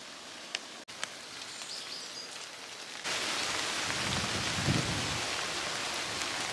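Steady rain falls on countryside fields in the Monts d'Arrée in a soft, even hiss that grows louder partway through, with a few faint taps at the start.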